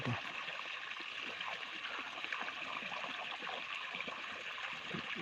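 Water flows along irrigation furrows in a farm field, producing a continuous low trickling and gurgling rush at an even, modest level through the whole stretch, with no voices.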